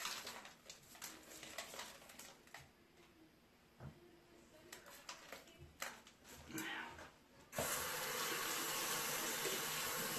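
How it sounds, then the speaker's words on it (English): Aquarium filter bags from a Pennplax Cascade 1500 canister are rinsed under a tap, with handling splashes and knocks that give way to a steady, loud rush of running water. "I always rinse my filter bags out"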